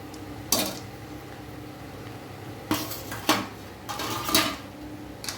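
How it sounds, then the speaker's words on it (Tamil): Egg noodles with coriander leaves get stirred in a pan, with a few distinct scrapes and metallic clatters against the pan, separated by quieter gaps; no speech. "அந்த மல்லித்தலை எல்லா பக்கமும் போகிற மாதிரி கிண்டி விட்டுக்கலாம்"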